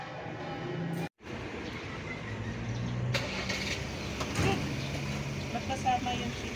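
A car passes on a street in Baguio, its engine rumble and tire noise building and fading close by, while people talk over it.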